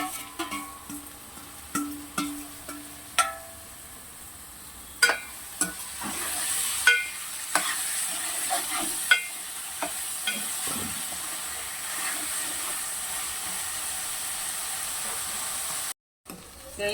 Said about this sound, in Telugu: పుట్టగొడుగులు కూడా మనకి గోల్డ్ కలర్ వచ్చేంత వరకు ఫ్రై కావాలి.